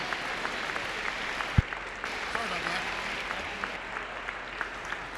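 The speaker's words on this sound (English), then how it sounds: "Let's give them all a round of applause." Audience at a high school conference awards ceremony applauding boys' fall sport award winners, a steady moderate clapping crowd in a gym with a single loud thump partway through.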